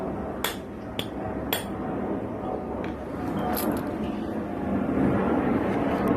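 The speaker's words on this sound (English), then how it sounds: "Get the rubber mallet." A rubber mallet strikes a sway bar part during a Hellwig kit install on a Toyota Tacoma, a few sharp knocks over steady background rumble, with talking nearby.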